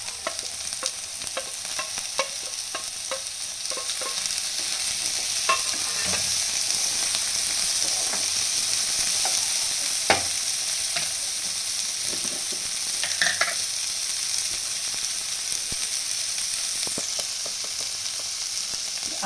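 Onion and tomato fry in a pan for an egg tawa masala, giving a steady, even sizzle broken by scattered scraping clicks as a spoon stirs the mix.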